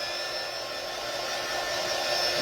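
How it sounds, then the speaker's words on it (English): A small handheld blow dryer, used for drying glue on a craft project, runs steadily at one constant speed close by. It gives an even, loud airy whoosh with a thin high whine, with no talk. "grab my handy dandy little blow dryer"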